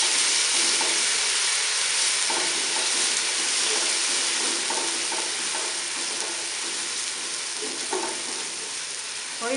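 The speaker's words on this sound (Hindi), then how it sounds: "थोड़ी देर भूनेंगे इसे।" Onion, cumin and ginger-garlic paste fry in a hot pan, a steady loud sizzle with occasional scraping stirs of a spoon cutting through.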